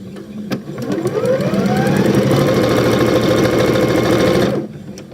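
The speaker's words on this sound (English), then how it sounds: "And I'm going to sew my seam." A sewing machine runs one continuous burst of fast, even stitching along a doorstop seam, loud and close, starting and stopping abruptly.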